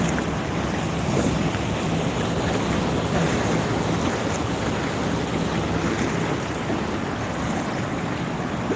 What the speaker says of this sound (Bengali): পানি দিয়ে গাড়ি চলতেছে